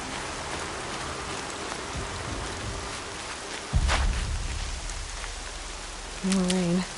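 Steady rain hiss from The Banner Saga game, a constant wash of falling drops with a brief heavier rumble midway and a short tonal game chime near the end.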